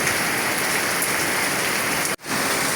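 Heavy rain pours down in a loud, constant hiss, drumming on surfaces, briefly cutting out for a moment near the end.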